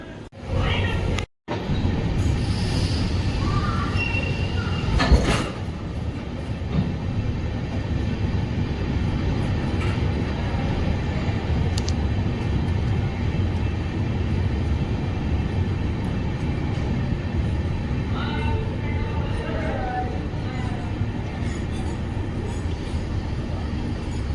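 A train pulling out of Chikkamagaluru railway station, a steady loud rolling rumble from start to finish with a brief gap near the beginning and faint clanks over the continuous noise.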